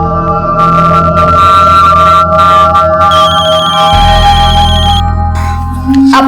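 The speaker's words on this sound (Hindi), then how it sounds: "कौन बार बार फोन कर रहा है?" A mobile phone rings over and over. The tone is loud and steady and carries through the whole stretch, with layered melodic tones and a brief shift in pitch near the end.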